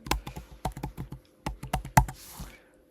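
Someone typing a note on a computer keyboard: about fifteen quick, crisp key taps in irregular bursts, close and clear, with no voices.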